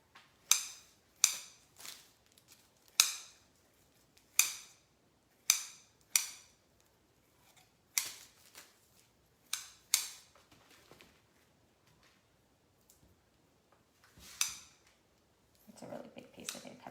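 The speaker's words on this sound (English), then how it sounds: "I think it's easier to use scissors over knives" Sharp, crisp snipping of scissors through raw chicken repeats at an uneven pace, about a dozen cuts close up, followed by soft handling noise and a brief rustle at the end.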